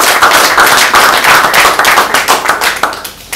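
Dense, steady applause from an audience at a presentation event in Maluku, continuing loudly throughout before beginning to thin out at the end.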